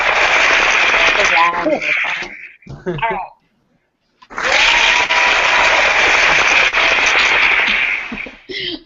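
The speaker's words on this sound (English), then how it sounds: "I have to do 2 rounds of applause" Two bursts of applause from a creative group session, a long dense round and another sustained round after a brief silence, with a voice speaking briefly between them.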